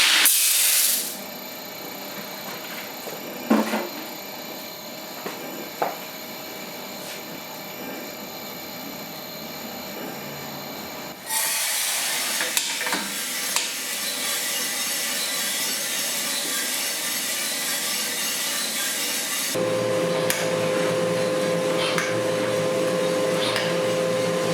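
Coffee roaster roasting Vietnam Lotus washed coffee beans: a steady, loud whooshing hum of fan and drum that shifts in level twice, with occasional small clicks and rattles.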